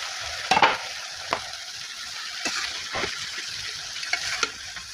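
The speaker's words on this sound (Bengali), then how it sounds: "ঢাকনা খুলে এবার বারবার নেড়ে চেড়ে এটিকে ভালো করে কষিয়ে নেব আমি।" Rohu fish pieces and cauliflower frying in a covered-then-opened pan, with a steady sizzle and spoon stirs and scrapes recurring every second or so, close and alone without talk.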